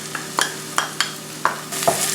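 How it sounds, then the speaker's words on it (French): Chopped onion and garlic sizzle in olive oil in a frying pan, with a soft steady hiss broken by several distinct scraping stirs of a utensil against the pan. "j'ai allumé la poêle. Je vais mettre un petit peu d'huile d'olive. Ensuite, je verse l'oignon"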